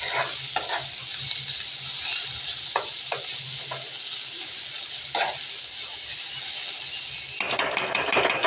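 Capsicum and cabbage stir-fried in oil with a constant loud sizzle and periodic spatula knocks and scrapes against the pan, the frying growing more crackly near the end.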